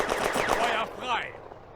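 Rapid machine-gun fire in the video game Firefight, set on the Eastern Front at Voskhod Railway Junction, rattling close and loud for about a second before tailing off into a fading sweep.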